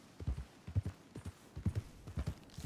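Horse hooves from Red Dead Redemption 2 clip-clop at an easy walking pace, close and fairly quiet, with a steady uneven four-beat pattern of dull thuds and no talking over them.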